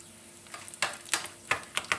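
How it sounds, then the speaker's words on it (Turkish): Walnuts toasting in olive oil in a pan give a faint sizzle, broken by several sharp scraping stirs, with no one speaking. "tavamda zeytinyağımı bırakıyorum ve üzerine cevizi hafif kavurturacağım"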